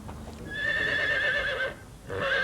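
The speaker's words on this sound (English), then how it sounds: "You're about to get run over by a stuffed horse." A horse at a replica Victorian street display gives two loud, close whinnies, the first long and wavering and the second starting just as the clip ends, with faint hoof clopping beneath.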